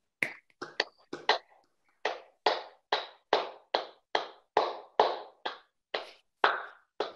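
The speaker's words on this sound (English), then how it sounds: "I think she's clapping" A person in an online video meeting claps their hands: about seventeen sharp, close claps, irregular and quick at first, then settling into an even, steady rhythm, with no talking.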